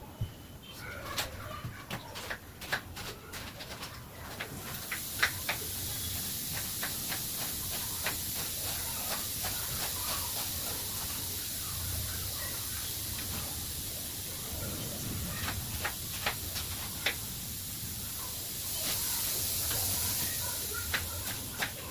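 A pressure cooker of drumsticks (moringa pods) lets off steam in a strong, steady high hiss that sets in partway through and holds, while birds coo and chirp faintly in the background.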